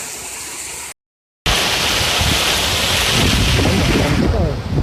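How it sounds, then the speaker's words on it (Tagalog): Rushing floodwater and wind fill the recording, a loud continuous churning of waves after heavy rains in Infanta, Quezon, with a brief dropout near the start and gusty noise throughout. "Parang nasa dagat, may alon."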